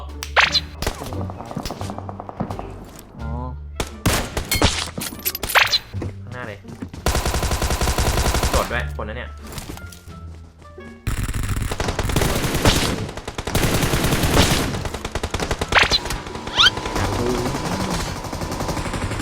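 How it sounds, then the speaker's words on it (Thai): Gunfire in the mobile battle royale game PUBG Mobile, with rapid automatic bursts and single shots in irregular clusters, loud and dense, layered with in-game effects and abrupt scene changes. "ก็ยิงให้มันโดนๆหน่อยครับพี่ชาย"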